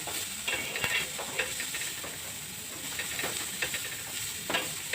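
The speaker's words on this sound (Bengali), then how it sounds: "এটিকে আমি ভালো করে নেড়ে চেড়ে ভেজে নেব।" White sauce pasta sizzles steadily in a pan while a utensil repeatedly scrapes and stirs through it, close by.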